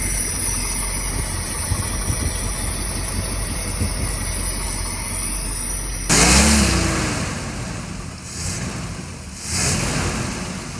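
A 1960 Cadillac hearse engine running after sitting 32 years with the engine open, a steady rough idle that swells into a couple of revs, close and continuous.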